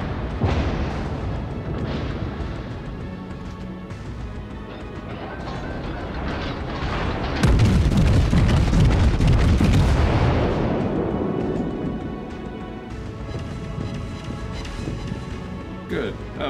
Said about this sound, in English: Oh, ricochet.